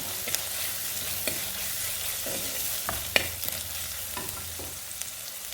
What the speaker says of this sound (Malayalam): ഇഞ്ചി വെളുത്തുള്ളി എല്ലാം അതിനകത്തേക്ക് ഇട്ട് കേട്ടോ ഇനി പതിയെ വഴറ്റുകയാണ്